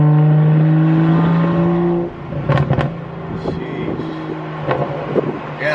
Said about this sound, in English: You can hear like little baby burbles